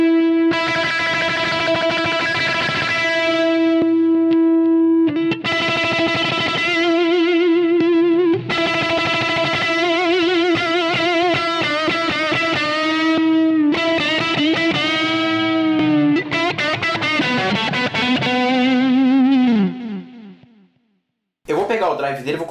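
Electric guitar through a Chainsaw GarageTone distortion pedal, loud overdriven chords and sustained notes played in several phrases with short pauses, ending in bends and a brief gap before another burst.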